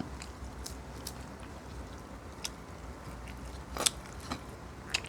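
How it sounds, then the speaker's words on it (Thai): Crispy fried red chili being bitten and chewed, with a few sharp close crunches standing out over a low quiet background, no talk. "นั่นแหละพริกตาแดง กรอบๆเลยครับ"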